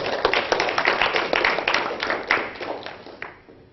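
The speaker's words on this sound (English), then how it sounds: "so if we can give him a round of applause." Audience at a physics society talk in Oxford claps to welcome a speaker on science and spirituality, a dense patter of hands that holds steady and then tapers off toward the end.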